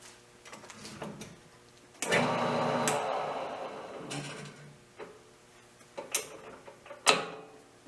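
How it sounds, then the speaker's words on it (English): Metal lathe or mill machining a steel pin punch down to a marked line, with clicking mechanical gear and feed noises and a steadier cutting whir in the middle, fairly quiet and close. "So I'm going to machine that down till I hit that mark."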